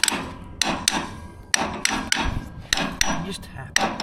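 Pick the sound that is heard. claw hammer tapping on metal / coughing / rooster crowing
claw hammer tapping on metal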